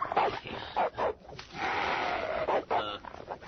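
A dog barks a few times in short bursts at moderate distance, with a longer stretch of raised sound between the barks and people chatting nearby.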